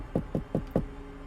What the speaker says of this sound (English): he would always be close to something he could knock on, just like this.